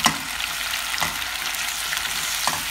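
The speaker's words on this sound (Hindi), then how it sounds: "अब मैं इसको 2 मिनट इस तरह से भूनूंगी" Sweet potato frying in a pan for a sweet potato kheer, a dense even hiss of sizzling oil, close and steady, with a few faint stirring scrapes and taps.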